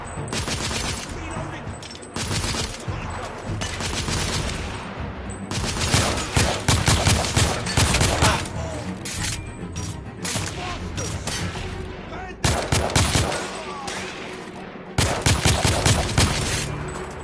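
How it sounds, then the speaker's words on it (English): Heavy gunfire from a firefight in The Order 1886 video game comes in dense, loud bursts of rapid shots, broken by short lulls, with a voice occasionally heard between them. "I'm under heavy fire!"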